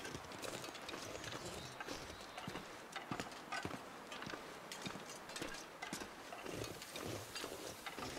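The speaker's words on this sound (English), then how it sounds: "That kind of crunchy snow sound is wonderful" Dense, crunchy footsteps on snow from The Long Dark, with steady rapid steps at close range filling the whole stretch; no talk over them.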